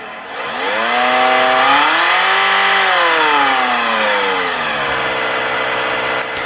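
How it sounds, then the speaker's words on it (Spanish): Simulated car engine in an ELECTUDE training simulator starting up, rising to a loud, steady synthetic whine whose pitch climbs and then settles, continuing alone with no talk. "el motor ya se pone en marcha"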